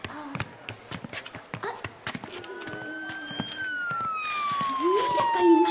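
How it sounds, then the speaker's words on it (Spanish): An ambulance siren rises and holds a long wailing tone in the second half, growing louder, after a stretch of busy street noise near bazaars with scattered clatter and voices. "¡Mira, Calimán! ¡Una ambulancia!"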